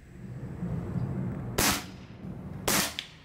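Two sharp, loud cracks from an Air Arms TX200 laminate spring air rifle sound about a second apart over low background noise, each a short, close snap.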